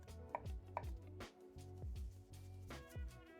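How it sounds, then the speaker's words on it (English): Knife chopping broccoli gnocchi dough on a board, several sharp close knocks and scrapes in an uneven rhythm as pieces are cut and flicked into flour, with no talk. "I sort of cut down and then flick them into the flour"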